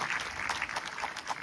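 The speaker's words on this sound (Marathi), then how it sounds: "त्या सगळ्या एकदा मुलींसाठी टाळ्या वाजवा." An audience at a devotional discourse applauds for girls who danced to a song, a dense, steady patter of many hands clapping at once, filling the short moment without voices.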